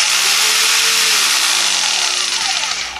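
A DEKO variable-speed jigsaw running unloaded at maximum speed, a loud, steady high-pitched whine with a buzzing motor tone, close and continuous, tapering slightly at the end.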